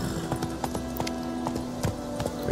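A horse in The Witcher 3 video game gallops with steady, rapid hoofbeats in a continuous rhythm, up close and prominent.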